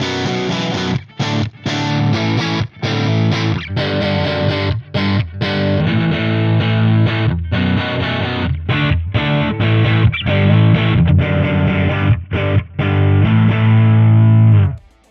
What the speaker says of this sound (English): adjust the amount of speaker distortion